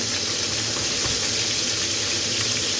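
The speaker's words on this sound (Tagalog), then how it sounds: "nagpiprito ako ng isdang galunggong" Galunggong fish frying in hot oil gives a steady, close sizzle and crackle that runs the whole time, with no one speaking.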